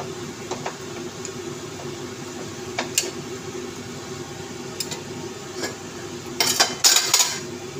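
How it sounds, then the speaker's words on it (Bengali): A cooked dish is stirred in a pan, with faint intermittent scrapes and clinks over a steady low kitchen hum and a brighter burst of metallic clatter near the end. "এবার এটাকে একটু নাড়িয়ে দেবেন"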